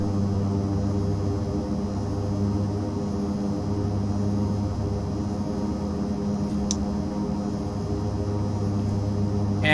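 Twin turboprop engines of an AeroCommander 690B in the X-Plane 11 flight simulator drone at a steady taxi idle, a loud continuous hum with layered tonal whine and no talk over it.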